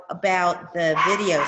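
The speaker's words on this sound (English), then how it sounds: "sorry about the dog in the background" A dog barks and yips in the background, a few short, bright barks mixed under a person talking.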